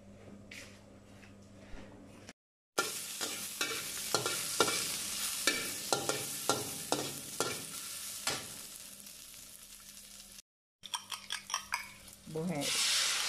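Sausage and egg fry in a pan with a steady close sizzle, broken by repeated scraping and stirring strokes, with two brief silent cuts and a busier stretch of utensil clatter near the end.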